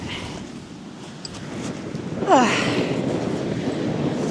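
Strong wind buffets the microphone on a deserted beach, a continuous loud rumbling roar that swells in a gust midway, with brief faint whistling tones and no voices.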